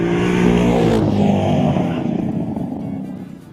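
A 2010 Corvette Grand Sport with its exhaust flap opening at about 3,000 RPM roars loudly as the revs climb, then the deep engine note drops in pitch and fades as the car pulls away.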